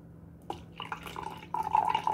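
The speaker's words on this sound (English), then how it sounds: "so I'm gonna get myself some actual apple juice" Apple juice is poured from a container into a glass, starting with a short splash and becoming a steady, close trickle that grows louder and gurgles as the glass fills.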